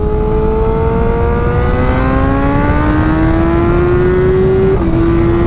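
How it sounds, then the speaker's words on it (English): A BMW M1000R motorcycle accelerates hard in third gear, its engine note climbing steadily in pitch as it revs, with a brief shift-like dip near the end, loud and close over constant wind roar. "since this bike is crazy fast, we're gonna go third gear, 60"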